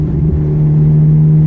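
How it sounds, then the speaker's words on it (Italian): A Ferrari engine drones with a strong, steady low hum during a test drive, loud and close from inside the car, holding an even note through the short moment. "Mamma, senti il motore."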